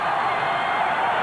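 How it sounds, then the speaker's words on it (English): A football stadium crowd at a college game roars as a steady, broad wash of noise with no clear breaks. "And the crowd continues"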